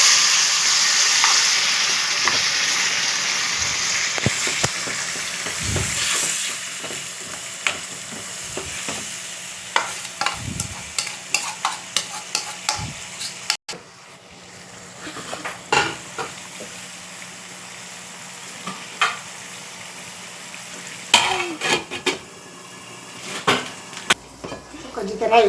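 Food frying in hot oil in a home kitchen, with a steady sizzle that is loud at first and then fades, broken by frequent spatula scrapes and clinks against the pan, and a person talking at times.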